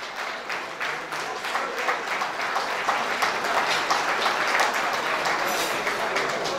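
Sustained loud applause from an audience at an honours ceremony for musicians, dense steady clapping that builds slightly and holds for several seconds without talk.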